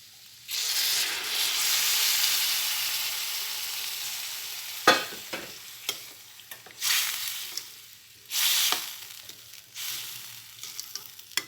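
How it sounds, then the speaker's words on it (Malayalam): Hot water poured into a pan of chow chow pickle sets off a loud, steady sizzle and hiss, then dies down to bursts of bubbling and sputtering. "ഇതിനകത്ത് നമുക്ക് ചൂടുവെള്ളം ഒഴിക്കാം"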